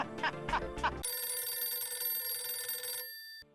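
A telephone rings in a domestic comedy scene. After a few short bursts of laughter, a steady electronic ring sounds for about two seconds and then stops abruptly.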